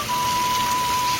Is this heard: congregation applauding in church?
no